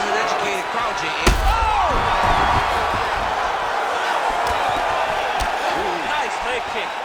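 A virtual arena crowd in the UFC 5 fighting game roars steadily throughout, with a sharp slam early on and commentators talking over the noise.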